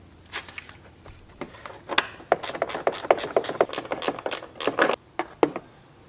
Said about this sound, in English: I'm just gonna go ahead and reach those screws and remove the mesh grill.